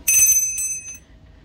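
A small vintage bell in a thrift shop rings with a bright, clear metallic ding, then gives a couple of softer follow-up taps that fade out quickly.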